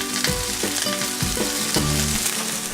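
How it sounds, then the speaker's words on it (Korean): Scored horse mackerel fries in a hot, oiled pan, a steady loud sizzle and crackle with no voices, lasting just under three seconds. "전갱이 굽는 소리가 미각을 깨우면"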